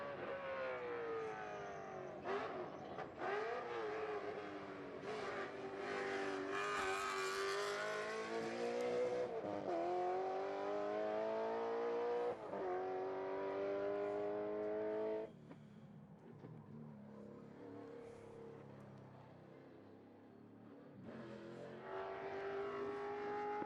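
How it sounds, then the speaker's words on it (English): A Maserati race car climbing a hill climb course, its engine loud and close, revving and rising in pitch through the gears, then easing off and dropping before pulling hard again near the end. "And the last of the hill climbers heading out, the last two, that is. Maserati."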